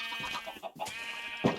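Sheep in a Minecraft farm bleat in quick overlapping wavering calls, close and fairly loud, with no talking over them.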